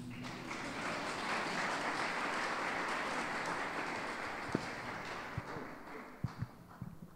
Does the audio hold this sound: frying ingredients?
no